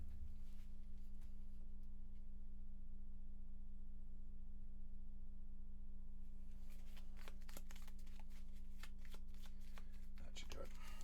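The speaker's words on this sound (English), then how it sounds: "I did not remember to shuffle these, so I got to shuffle these." Gloomhaven board game cards are shuffled at a table, first a steady quiet riffle and then a run of sharper, closely spaced snaps and flutters over a constant low electrical hum.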